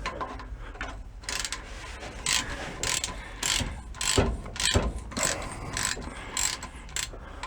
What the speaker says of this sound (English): put a 1/4-inch socket on a 3/8 ratchet